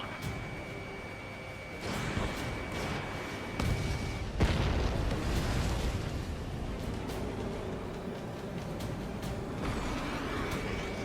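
Gunfire and explosions in the jet combat game Ace Combat 7, with booming blasts and rumbling impacts layered over a steady roar through the whole stretch, plus sharp bursts and a thin sustained tone.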